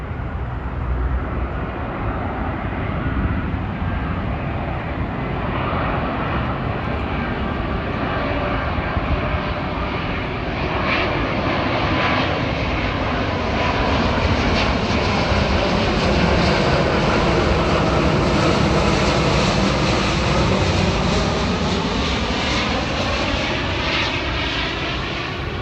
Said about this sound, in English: And behind the trees is British Airways 179, 777 from London Heathrow.